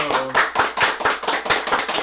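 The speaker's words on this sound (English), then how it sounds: "we gotta give him a round of applause" A group of people claps in a steady, fairly loud rhythm, each sharp hand clap distinct and close, with a brief bit of talk at the start.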